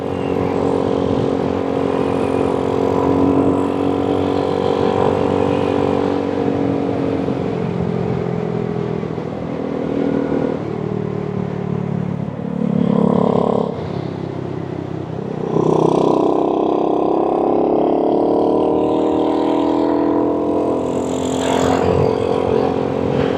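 A Boom Vader 125 motorcycle, a Honda Grom clone, hums steadily while being ridden at speed, with rushing wind and a few shifts in engine pitch as it slows and picks up again.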